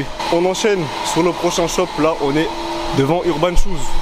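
A vacuum cleaner runs close by on a shopping street in Strasbourg, a steady whining motor drone under continuous speech.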